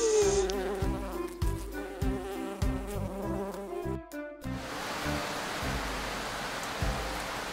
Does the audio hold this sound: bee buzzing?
yes